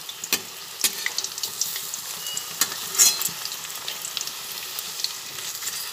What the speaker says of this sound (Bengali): এইভাবে কোপ্তাগুলোকে ভেজে নেব।